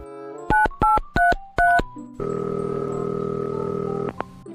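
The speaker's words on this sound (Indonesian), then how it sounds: "Gua telepon Goden dulu ah" A string of four short, loud telephone keypad dialing tones in quick succession, followed by a steady ringback tone as the call connects, heard alone without talk.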